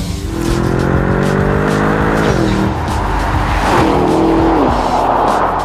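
An Aston Martin DBX with a Mercedes-AMG 4-litre twin-turbo V8 drives hard, its engine loud and close as it revs and drops pitch through gear changes, with a tyre and road roar beneath.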